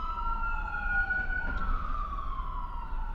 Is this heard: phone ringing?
no